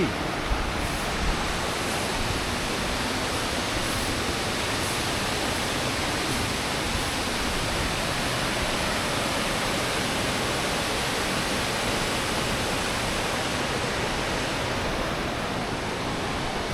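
A powerful, high-flowing waterfall on the Appalachian Trail in Tennessee roars continuously, a dense, even rush of crashing water close by with no pauses.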